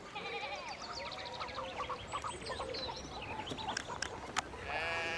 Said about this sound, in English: What is the sound of sheep?